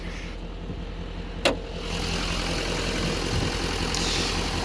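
A 2015 Chevy 3500 Duramax 6.6L turbo diesel with an Allison transmission settles into a steady idle after one sharp click, a moderate, close rumble with no talk.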